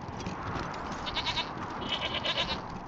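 Goat bleating in the video game Wasteland 3, several short wavering bleats layered over a steady background hum, moderately loud and continuous across the moment with no talk.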